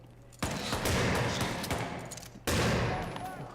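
Gunfire from the Red Dead Redemption 2 Online video game comes as loud, dense bursts of shots, with two sharp onsets each followed by a rumbling, decaying volley, and faint voices underneath.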